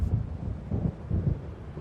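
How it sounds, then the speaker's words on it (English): An approaching storm in the video game Alan Wake Remastered gives off low, rolling thunder rumbles that come as several soft, deep swells over a windy background, with nobody speaking. "It seems there's a storm coming."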